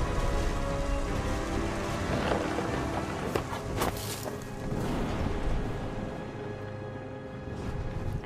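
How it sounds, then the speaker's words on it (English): Heavy rain pouring down in the video game What Remains of Edith Finch, a steady dense hiss of falling water with a few sharper spatters, moderately quiet and continuous throughout. "The rain came down in buckets then"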